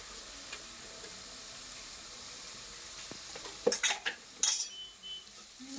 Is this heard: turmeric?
yes